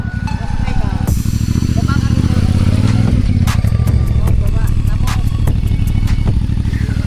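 A big-bike motorcycle engine drones loud and close, changing pitch as the bike rides through an obstacle course, with people talking over it throughout.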